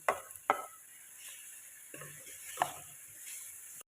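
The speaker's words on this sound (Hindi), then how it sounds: "अब इसमें डालेंगे लहसुन और अदरक का पेस्ट" Garlic and ginger paste sizzles quietly in a frying pan with already fried chicken as a spoon stirs it, giving a few sharp scraping clinks over a soft, steady frying hiss.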